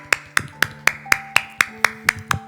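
Applause at a church service, heard as about ten sharp, evenly spaced claps, close and crisp, at a steady rhythm with no talk over them.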